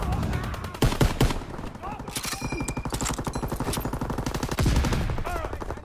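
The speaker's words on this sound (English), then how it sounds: "I was being shot in the back." Rapid bursts of gunfire from the World War II shooter Call of Duty WWII rattle continuously through the clip, with louder cracks near the start and end layered over a dense battle din, and voices mixed in.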